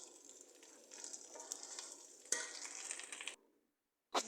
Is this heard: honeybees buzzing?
no